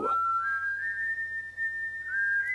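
Proto Man's signature whistle from the Mega Man 8 video game, a single clear sustained tune that slides up and holds, loud and alone over a faint background hum.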